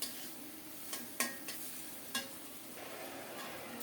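Grated tomato and spice masala frying in a pan while being stirred, a soft steady sizzle broken by a few sharp scrapes and taps of the spoon against the pan.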